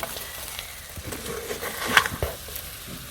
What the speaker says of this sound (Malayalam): ഇനി ഈ അരപ്പിലേക്ക് നമുക്ക് ഈ മീനെ ഇട്ട് കൊടുക്കാം